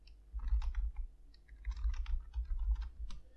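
Keys tapped on a computer keyboard for shortcut presses while editing layers in photo retouching software, a quick series of soft clicks in short bursts, close by with no talk.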